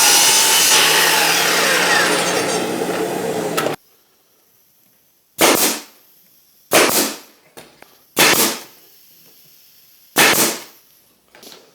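A power saw cuts pieces of wood, first a sustained cutting whine, then after silence four separate short, loud bursts of cutting, each with a sharp onset and quick fade.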